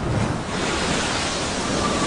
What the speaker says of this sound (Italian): La nave si inclinò paurosamente, mentre un'onda spazzava il ponte